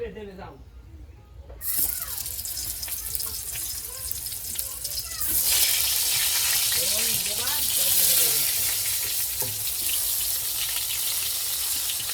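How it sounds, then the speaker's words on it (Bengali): Eggplant slices frying in a pan, a steady hiss and sizzle that grows louder partway through, with someone talking over the cooking. "এদিকে যে বেগুন কেটে নিয়েছি বেগুন ভাজা করব"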